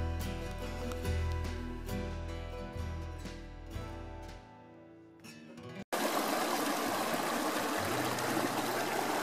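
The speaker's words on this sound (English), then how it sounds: "It's right on this little stream that runs right through here" After a stretch of other sound, a small stream in a little canyon at Devil's Den suddenly takes over, a close, steady, full rush and trickle of running water that continues to the end.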